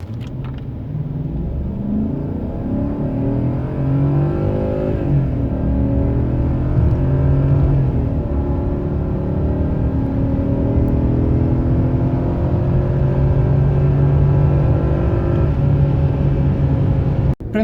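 A 1994 BMW 740iA E38 with its V8 engine pulls hard under acceleration, a steady loud engine drone and road rumble rising through the gears for the whole stretch, heard from inside the car with no voices.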